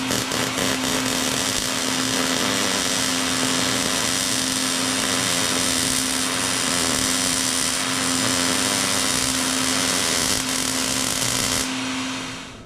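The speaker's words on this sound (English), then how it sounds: "Grind the edge smooth." A power tool grinds the edge of a wooden birdhouse smooth, a steady loud whine with a constant hum that runs unbroken for about twelve seconds, then cuts off at the end.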